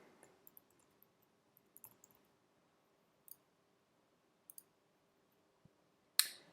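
Password typed on a computer keyboard, heard as faint, sparse key clicks spread unevenly through a quiet room, ending with one sharper, louder tap.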